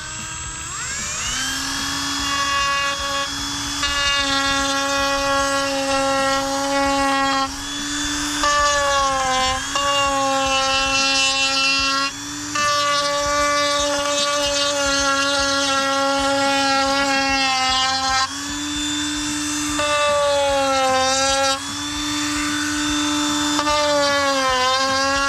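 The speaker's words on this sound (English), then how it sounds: "we want to just put a little bit of a chamfer on this edge. We're just gonna use our stone bit." A rotary tool with a stone bit chamfers a boat's gel coat edge, a high, steady whine that grinds in several sustained passes with brief pitch dips between them, loud and close.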